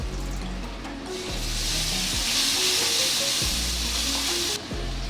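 Spice paste hitting a hot pan for egg curry, giving a steady, loud sizzle and hiss that swells and holds throughout, with low pan clatter underneath.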